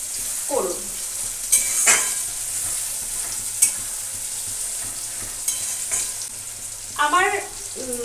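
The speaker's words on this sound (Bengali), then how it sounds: "আমার পেঁয়াজটা ভালো করে দেখো লাল করে ভাজা হয়ে গেছে।" Onions frying in oil until browned, a steady soft sizzle close by with a few stirring scrapes and clinks, and brief bits of a voice talking.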